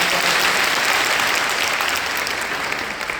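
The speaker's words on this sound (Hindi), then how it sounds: "एक बार और जोरदार तालियां बजाएं।" Loud, continuous clapping from a large audience at a school function, even and sustained before tapering slightly toward the end.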